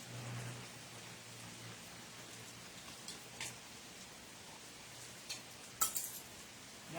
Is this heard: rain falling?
yes